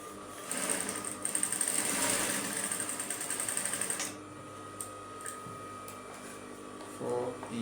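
A sewing machine stitches a dart line on a straight skirt in a fast, even run of rapid ticking stitches for about three and a half seconds, then stops, leaving faint handling noises and a brief final clatter.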